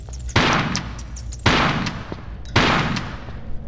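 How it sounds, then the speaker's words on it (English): Three loud shotgun blasts fired at bats in Tomb Raider 4: The Last Revelation, evenly spaced about a second apart, each a sharp boom trailing into a short rumbling decay. "Threw an extra shot there just for good measure."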